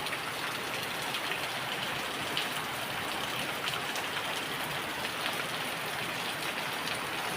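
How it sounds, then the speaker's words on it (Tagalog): Heavy rain pours steadily, a dense constant hiss of drops hitting surfaces with no pauses and no voices. "Grabe talagang ulan, no?"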